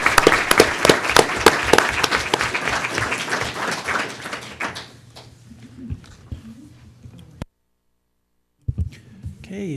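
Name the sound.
round of applause at board meeting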